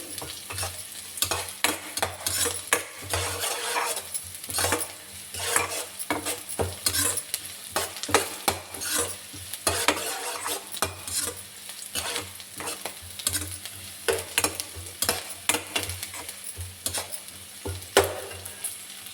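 Onion pieces frying in a pan for an okra fry, stirred with frequent, rhythmic scrapes and clinks over a continuous sizzle, close and fairly loud.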